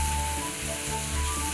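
Onion, garlic, green and red peppers and black pepper sauce with water sizzle steadily in a pan, an even, close frying hiss with no voices.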